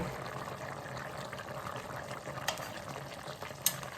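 Water boiling down in a pot of speckled lima beans on the stove between medium and high heat, a steady close bubbling simmer with a couple of sharper pops and clinks.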